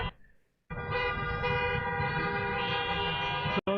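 After a brief quiet moment, a car horn sounds one long, loud, unbroken blast from nearby vehicles supporting a street march, sustained for about three seconds and then cut off abruptly.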